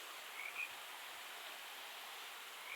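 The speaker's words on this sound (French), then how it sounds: "Et avec des grenouilles évidemment, des crapauds plutôt." A dense, continuous chorus of croaking toads by a small creek fills the air, steady and textured like a hiss, with a couple of faint higher calls.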